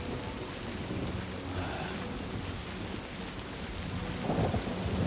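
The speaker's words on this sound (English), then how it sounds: "See, the rain has a real effect on the world." Steady heavy rain pours down with a continuous low rumble of thunder throughout, swelling slightly near the end, in the video game Death Stranding.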